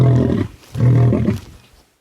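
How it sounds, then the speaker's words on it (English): A lion roaring in two deep, loud, drawn-out bursts with a short pause between them, the second trailing off into silence, close and alone. "So lions will do these sequences where they're like, roar, roar, and then they do grunts."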